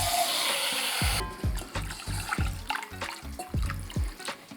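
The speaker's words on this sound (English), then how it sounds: "And to that, we're gonna add even amount of water." Water is poured into a ramen soup base of pork broth, a steady splashing, trickling pour with faint clinks and knocks repeating underneath.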